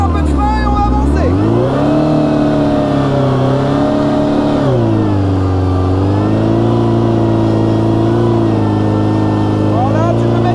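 A motorcycle engine held at high revs during rear-tyre burnout training, a loud sustained roar that climbs, dips and climbs again with shifting pitch, close up, with voices talking over it.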